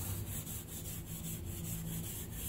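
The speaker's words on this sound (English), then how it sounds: "we're just brushing the rust that can go out" A wire brush scrubbing rust off a wrought iron railing produces steady, close, rhythmic rasping strokes, repeating evenly for the whole stretch without any talk.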